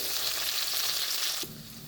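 Green chilies, curry leaves and shallots frying in a pan for a Kerala chili dish, a loud dense hiss of sizzling oil that drops abruptly to a softer crackle near the end, no voices.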